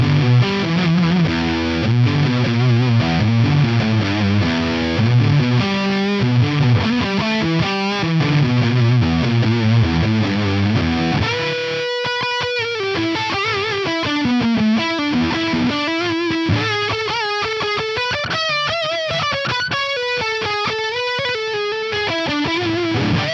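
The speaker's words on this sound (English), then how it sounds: "let's just hear the fuzz face model with the drive cranked up into that" Heavily distorted electric guitar with a thick, buzzy Fuzz Face model tone, drive cranked into a crunchy JCM 800 amp, first chugging rhythm chords, then a sustained, singing lead line, loud and continuous throughout.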